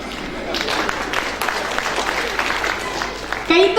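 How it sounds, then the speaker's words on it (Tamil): Audience applause at a public Tamil-language speech, a dense, steady patter of clapping lasting about three seconds at moderate loudness, followed by a brief different sound at the very end. "கைத்தட்டிய 18 பேருக்கு நன்றி."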